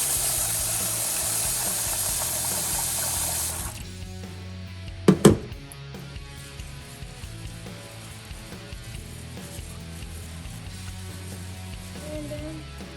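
A kitchen tap runs steadily as rice is rinsed for Filipino-style cooking, with water hissing for about four seconds before cutting off. A couple of sharp clatters follow, then quiet kitchen background.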